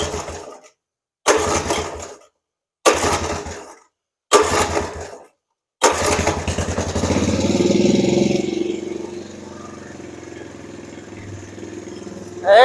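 A 1977 Honda ATC 90 three-wheeler with the choke on gets four short cranking attempts separated by silence. The small engine then catches and settles into a steady idle that rises, then eases to a quieter putter.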